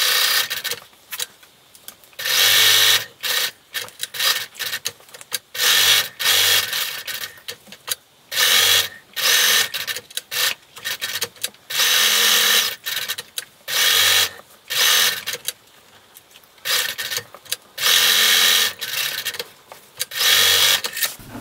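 A sewing machine stitches a quarter-inch seam around the fabric edge of a bowl cozy, running in loud repeated bursts of rapid mechanical whirring separated by short pauses, close and with no talking.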